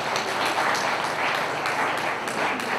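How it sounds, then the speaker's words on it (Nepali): A hall audience at a college welcome and farewell program applauds a chief guest, a dense steady wash of clapping from many people that holds throughout. "उहाँलाई तालीको साथ स्वागत गरौँ"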